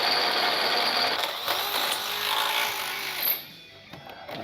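A power drill whines and grinds through a steel truck frame on a Ram 3500 at close range, then cuts off, leaving a quieter tail with faint clicks.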